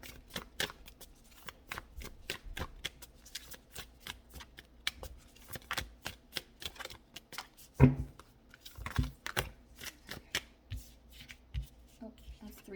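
Tarot cards being shuffled by hand, a rapid run of crisp riffling flicks and taps close up, with a louder slap midway and a quiet voice talking in places.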